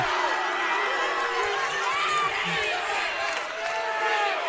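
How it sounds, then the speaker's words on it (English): Crowd noise at a high school state tournament basketball game, a steady dense roar of voices and cheering that fills the gym throughout. "Central with a big crowd, especially for a 3-hour-long drive."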